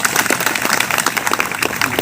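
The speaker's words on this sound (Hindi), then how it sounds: "एक बार अपने लिए ताली बजाएं।" A crowd gathered at a live event in Eco Garden claps for itself, a steady patter of many hands that is fairly loud and continuous for about two seconds.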